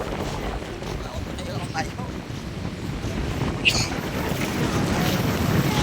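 A bangka boat moving across open water off Guimaras island, Philippines, with steady wind buffeting the microphone and a constant rushing wash of water, loud and unbroken.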